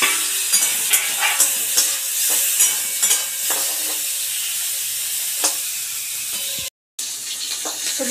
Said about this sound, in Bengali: এবার আমি চিংড়ি মাছ ভেজে নেব